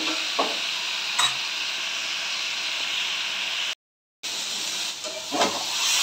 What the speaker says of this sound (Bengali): অল্প আজে ভাজতে ভাজতে ছোলাগুলো সিদ্ধ হয়ে যাবে কিন্তু।